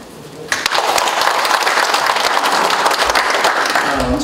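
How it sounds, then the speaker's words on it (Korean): A crowd at a welcome ceremony for new racehorse owners breaks into loud, sustained applause that starts abruptly and holds steady for several seconds. "한 분 한 분 소개해 드릴 때마다 박수로 환영해 주시기 바랍니다."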